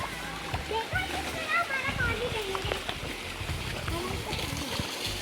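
Spring water from a mountain source pours and splashes steadily downhill at Pehelwan Nakka near Abbottabad, a close, continuous rushing wash with children's voices and talk over it throughout.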